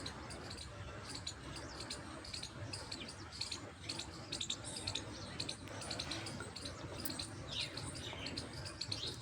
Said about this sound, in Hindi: चारों तरफ पक्षियों की आवाज़ें आती हैं